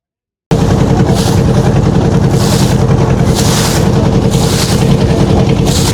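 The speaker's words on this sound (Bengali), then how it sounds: "প্রচণ্ড হাওয়া হচ্ছে আর সেই হাওয়ার মাঝখান থেকে নৌকাটা যাচ্ছে" Boat travelling on a river in strong wind near an island by the Bangladesh border, a loud continuous engine drone with rhythmic whooshing gusts and water slaps pulsing about once a second.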